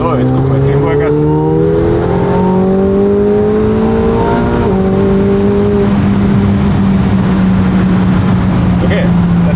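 A car accelerates hard on a race track, its engine note climbing steadily, loud and close throughout, with a voice talking over it.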